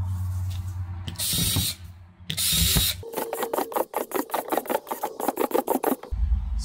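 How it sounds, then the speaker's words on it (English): Small holes are drilled into the top of a plastic storage bin, with bursts of loud spraying hiss at first, then a fast run of short, close, rattling drill stabs through the plastic, and no voices. "Drill a bunch of small holes in the top."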